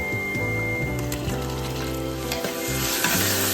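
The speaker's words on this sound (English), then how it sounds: "Saute for 4 minutes. Let the tomatoes start mashing." Chopped tomatoes and onions saute in a pan with a steady, close sizzle. A spoon stirs and scrapes through the mix in regular strokes, with no voices.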